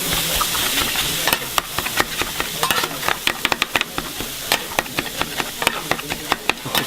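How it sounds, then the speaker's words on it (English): Kimchi fried rice sizzles on a hot stone while a metal spatula scrapes and clacks against the surface in quick, irregular strokes, close and busy over a steady hiss. "they bring the rice and they make fried rice right in front of you on the hot stone again"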